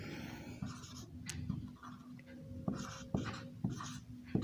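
Chalk or marker scratching out a heading on a classroom board, soft strokes and taps coming in short irregular bursts, close and fairly quiet.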